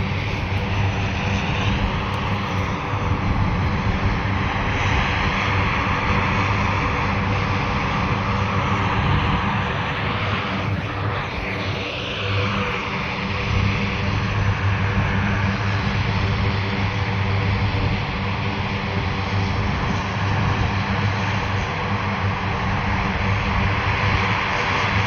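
A military airplane's engines drone loud and steady throughout, taking off or landing at Fort Bragg, with a brief shift in pitch midway and faint voices underneath.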